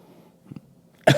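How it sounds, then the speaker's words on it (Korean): A single sharp, close cough near the end from a woman with a lingering post-COVID cough, following quiet breathing and a faint throat sound in an otherwise still room. "장기침이 좀 나네요."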